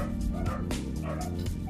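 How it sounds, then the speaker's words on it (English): Several dogs bark and yip nearby in an excited, overlapping chorus with some whimpering, continuous and fairly loud throughout. "sorry about the dogs. They're very noisy at this time."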